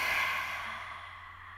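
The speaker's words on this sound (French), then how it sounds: "On expire par la bouche." A single slow, breathy exhale through the mouth during a gentle yoga breathing exercise, close and soft, fading out gradually with no talking.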